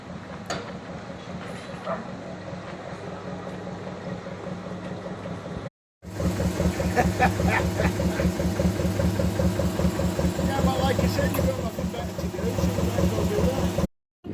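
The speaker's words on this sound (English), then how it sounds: "Love the sound of these old boats." The steady, rhythmic chug of an old canal boat engine running close by, loud and continuous, with a brief dropout partway through.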